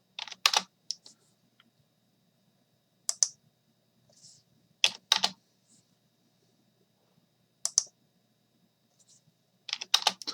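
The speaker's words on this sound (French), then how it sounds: "Je tape 2 sur le pavé numérique, Entrée." Keys tapped on a numeric keypad during CAD work, pressing 2 then Enter: sparse, separate clacks in small clusters with long quiet gaps, close and clear in an otherwise silent room.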